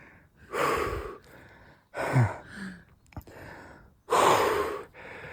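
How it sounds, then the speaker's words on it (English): Heavy, labored breathing after a hard bodyweight workout, with several loud close gasping inhales and exhales in uneven bursts and short quiet gaps between. "I made enough, as you can see by my breathing"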